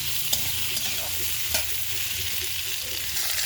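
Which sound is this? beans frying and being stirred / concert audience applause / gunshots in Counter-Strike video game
beans frying and being stirred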